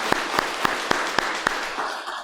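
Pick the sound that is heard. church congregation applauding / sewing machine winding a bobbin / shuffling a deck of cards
church congregation applauding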